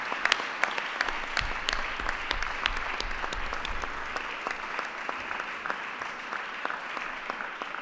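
Steady applause from a sizeable crowd at a public task force meeting, many hands clapping continuously at moderate volume for several seconds with no talking.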